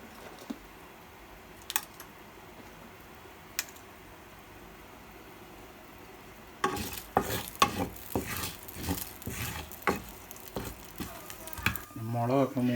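Green and dried red chillies hit hot oil. After a quiet stretch with a few isolated clicks, a loud, crackling, spluttering sizzle erupts and keeps popping near the listener, and a voice is present in the background.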